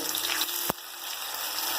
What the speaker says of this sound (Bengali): এক পিঠ ভাজা হয়ে গেছে এগুলোকে আমি একটু তুলবো উল্টিয়ে দেব